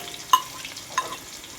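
Onion, ginger and green chilli fry in oil after mustard seeds, with a soft close sizzle and two quick stirring scrapes of a spoon in the pan.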